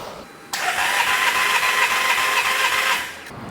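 A Mercedes-Benz W204 C63 with an M156 V8 and a misfire problem cranks on the starter during a compression test on cylinder 1, a loud, even, rhythmic churning that begins abruptly and stops after about two and a half seconds.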